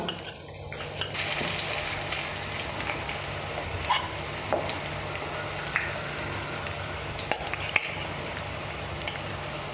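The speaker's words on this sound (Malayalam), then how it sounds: "എണ്ണയൊക്കെ ചൂടായിട്ടുണ്ട് നമുക്ക് ചിക്കൻ ഇട്ട് കൊടുക്കാം" Marinated chicken pieces frying in hot coconut oil give off a steady, even sizzle and crackle, with a few sharp pops and clinks scattered throughout and nobody speaking.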